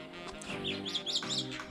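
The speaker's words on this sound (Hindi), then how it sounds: "चिड़ियाँ बोल रही हैं चिड़ चिड़ चिड़" Small birds chirp in quick, bright repeated notes at a village home in Soon Valley, over a low background murmur, near and moderately loud.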